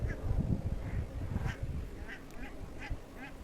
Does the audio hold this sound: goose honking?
yes